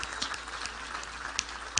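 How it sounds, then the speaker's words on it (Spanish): Crowd applause at an outdoor canonical coronation ceremony for an image of the Virgin in Parapara, a steady faint patter of clapping with a few sharper claps standing out near the end. "Un aplauso para ti"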